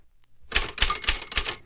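Typewriter keys clack in a quick run of about five sharp, close strikes after a brief silence, with a faint ringing tone among them and no voices.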